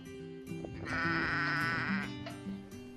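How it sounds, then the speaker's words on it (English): Pregnant ewes on a farm in Normandy bleat close by, one long wavering bleat rising in the middle with softer calls around it. "The two female sheep were about to become mothers."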